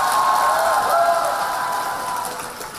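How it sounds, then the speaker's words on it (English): Seminar audience applauding at a business event, a steady broadband clatter of clapping that holds loud, then gradually thins over a few seconds with no talk over it. "Give yourself a big applause."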